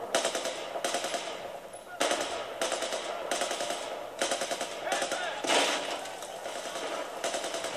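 Machine guns fire in Battlefield 4 in repeated loud bursts of about a second each, separated by short gaps, with a few heavier impacts mixed in.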